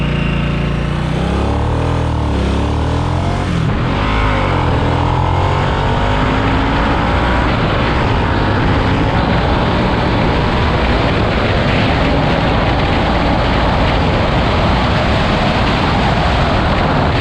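A Harley-Davidson 975 Sportster Nightster motorcycle accelerating hard out of a U-turn, its engine note climbing through rising revs with heavy wind noise over a loud, continuous roar.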